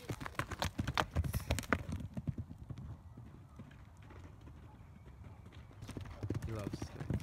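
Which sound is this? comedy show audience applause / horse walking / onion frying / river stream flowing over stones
horse walking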